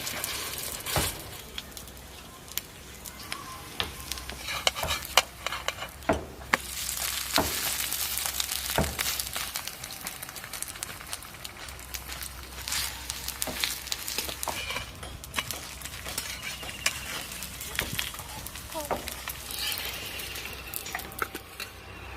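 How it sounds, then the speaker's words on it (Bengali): Chicken burger patties frying in a pan over low heat, a dense steady sizzle broken by frequent sharp spatters, scrapes and pan clatter, close and fairly loud, with no speech. "এগুলো কিন্তু একদম অল্প আঁচে ভাজতে হবে"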